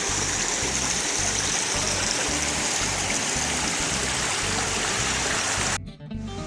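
A mountain stream tumbles down the side of a cove with a steady, close rushing and splashing that stays constant before cutting off near the end.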